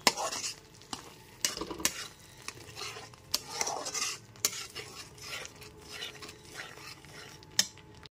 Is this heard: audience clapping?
no